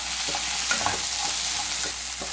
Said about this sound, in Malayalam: ഇനി ഇതെല്ലാം കൂടി വഴന്നൊന്ന് സോഫ്റ്റ് ആയിട്ട് വന്നോട്ടെ.